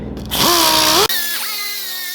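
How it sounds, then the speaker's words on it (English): A power tool with 80-grit abrasive polishes a part, giving a loud whine that spins up and cuts off briefly before a lower, steady whirring continues, with no talk. "I'm gonna just polish it up a little bit with some 80 grit."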